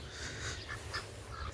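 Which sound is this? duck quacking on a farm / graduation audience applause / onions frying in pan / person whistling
duck quacking on a farm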